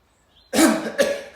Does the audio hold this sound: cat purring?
no